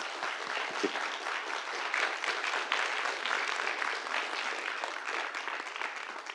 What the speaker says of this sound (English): Should we give Eric and Kent a round of applause?